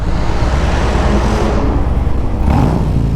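A loud, throaty motorcycle engine with 4.5-inch aftermarket exhaust pipes drones steadily up close with a rough exhaust rumble, swelling briefly near the end.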